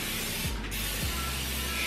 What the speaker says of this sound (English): We're gonna spray some of this buttery flavored butter in this pan.